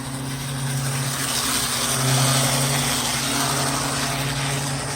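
An Athearn SD45 model locomotive motor running in at a steady throttle, a constant close whine and hum with no break for the full length.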